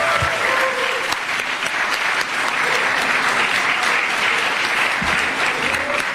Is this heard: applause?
yes